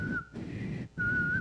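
A woman's little whistled tune imitating the Hunger Games ringtone: two clear sustained whistled notes separated by a brief gap, close and moderately loud with no talking.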